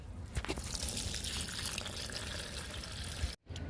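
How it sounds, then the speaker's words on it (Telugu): Liquid fertilizer is poured onto a potted plant with a soft, continuous trickle and patter of liquid on soil and leaves, quiet and close, ending abruptly. "ఈ మొక్క కూడా లిక్విడ్ ఇస్తున్నాను"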